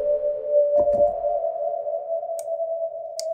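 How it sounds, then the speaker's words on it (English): Valhalla Shimmer reverb plugin with its pitch mode bypassed, leaving plain reverb: a steady sustained tone washes through a long, smooth tail, with a brief low thump near the start and faint high glints later. "You can set it to bypass, so it's just reverb."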